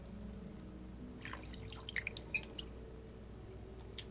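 Water drips in the horror video game Song of Horror, a few sparse, distinct drops over a low steady ambient hum, quiet and fairly close.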